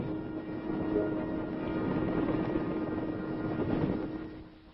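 A US Army helicopter drones steadily nearby in formation, its low rotor thrum and engine whine holding even throughout before easing off slightly at the end.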